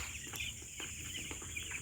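Farm chickens cluck faintly amid a steady background hum, with soft, irregular clucks and calls spread across a short stretch and no voices.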